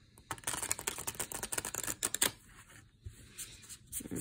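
A stiff new deck of tarot cards is shuffled by hand, making a quick run of close, crisp riffling clicks that fade into softer scattered taps.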